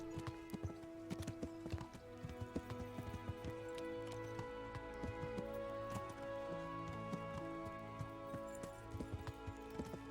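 Hooves of a horse in the video game Kingdom Come: Deliverance clip-clop in a steady rhythm at a moderate distance, with a sustained tonal background beneath them.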